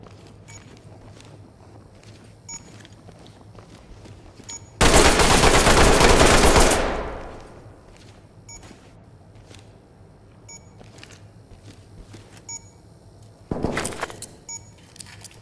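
Gunfire in the tactical shooter Ready or Not: a loud, sustained burst of automatic fire about two seconds long that tails off, then a second shorter burst near the end, with faint footsteps and clicks between.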